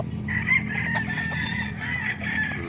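A Sweater-line rooster crows at a live chicken market in Calauan, Laguna. It is a loud, drawn-out call over constant crowd and market noise, close by.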